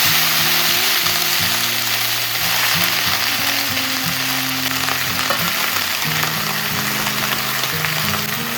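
Greens and chopped garlic sizzle and fry in oil in a wok, a steady, close crackle lasting throughout with a low tonal hum underneath and no talking.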